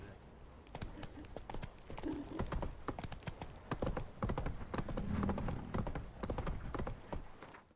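Horse hooves clip-clop in The Witcher 3: Wild Hunt, a brisk steady walking rhythm of hard clops that is close and fairly loud, with faint game ambience behind it.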